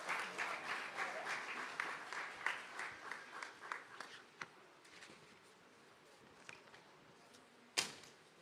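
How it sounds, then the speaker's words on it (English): A primary school graduation audience claps for a pupil walking up, steady applause for about four seconds that thins into scattered claps, with one sharp clap near the end. "Can we please give him a round of applause as he comes?"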